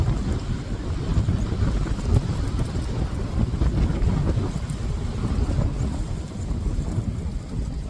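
Strong wind gusts buffet the microphone outdoors on a cold, blustery day, a dense low rumbling roar that surges and eases without pause and with no voices.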